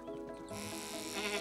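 A sheep in the video game Staxel bleats in a drawn-out, wavering cry while being sheared, fairly faint, over quiet background music.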